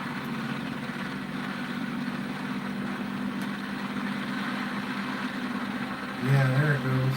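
A homemade pulse motor spins at speed with a steady, even whirring hum that holds at one level throughout, then shifts to a louder, lower tone just before the end.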